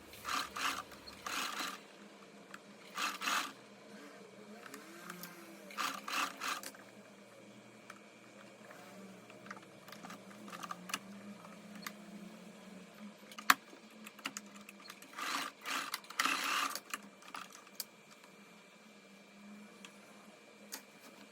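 A sewing machine stitches linen dress seams in several short, rapid bursts of mechanical whirring, separated by quiet pauses filled with soft handling and rustling of fabric, heard close with no talking.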